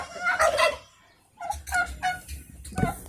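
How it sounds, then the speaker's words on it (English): Turkeys gobble in a garden after a tornado, with several loud bursts of rattling calls in quick succession, close by, then a pause and more scattered gobbles and a low honk-like call. "But the turkeys are fine."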